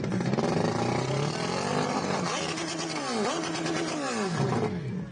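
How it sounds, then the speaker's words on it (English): A mud racing truck engine roars loudly and continuously, with a rough, throaty gurgle as the exhaust pushes through water, revving up and down close by. "when you hear that glug, glug, glug, glug in the front, that means it's loaded up"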